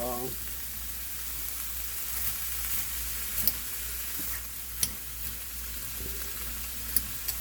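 Shredded cabbage hits a hot pan and sets off a steady, close sizzle that runs throughout, with a few faint sharp ticks and pops scattered over it.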